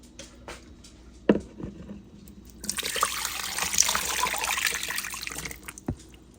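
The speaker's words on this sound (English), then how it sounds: "then we're just going to pour it over the top." Thick liquid poured over food in a crock pot, a steady splashing trickle that starts after a few kitchen clunks and runs for several seconds at close range, ending with a light knock.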